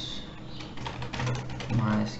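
Computer keyboard typing while entering a systemctl status command to check MySQL on a Debian 8 server, a run of light keystrokes heard close and moderately loud, with a low hum underneath.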